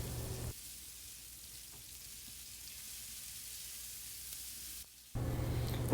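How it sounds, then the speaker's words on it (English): Mushrooms simmer in a pan with a soft, steady bubbling sizzle. A louder broadband frying hiss is heard at the start and returns near the end. "Now let this simmer for like 2 minutes."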